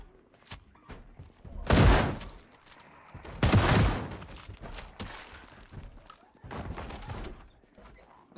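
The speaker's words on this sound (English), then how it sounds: "Rachel, just keep shooting." Bursts of gunfire in Project Zomboid while clearing zombies in Trelai: two heavy, loud volleys stand out, with smaller shots and thuds between them.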